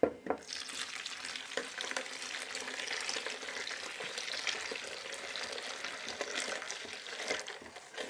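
Hot milk is stirred into egg yolks in a bowl for crème anglaise, with steady wet swishing and occasional light clinks of a utensil, close up and without talking.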